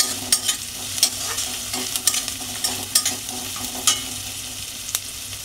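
Onions fry in a pan with a constant close sizzle, broken every second or so by sharp spatula scrapes and taps.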